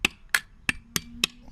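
Five sharp, evenly spaced hammer taps ring out close by as a small metal gutter is driven into a birch trunk to collect sap, each strike crisp and bright with no talk.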